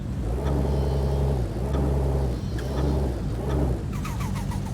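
A Toyota Supra MK4 sports car engine in Forza Horizon 5 revs in three repeated surges, each rising and falling with a throaty drone, followed by rapid crackling pops at the end.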